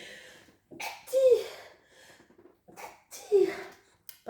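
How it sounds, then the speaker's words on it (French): Two sharp sneeze-like bursts a couple of seconds apart, close and fairly loud, with quiet breathy sounds around them. "je vais éternuer."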